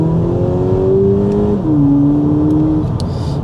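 A 2022 VW Polo GTI engine pulls hard under acceleration, its steady rising drone dipping briefly at a gear change before climbing again, loud and close throughout.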